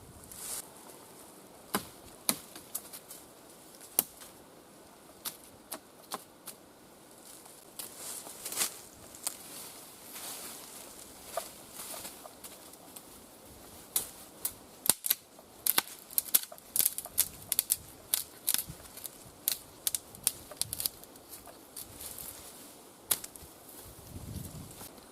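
A DBK knife chops through a branch outdoors with a series of sharp, irregular woody cracks and taps, sparse at first and then coming in quick clusters, close and fairly loud over a quiet background.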